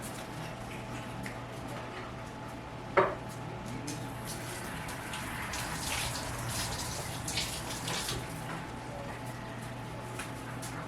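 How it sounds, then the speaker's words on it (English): A kitchen tap runs steadily while hands are washed after handling pork for carnitas, giving a constant close water hiss with a single sharp clink partway through. "Let me wash my hands and we'll finish up."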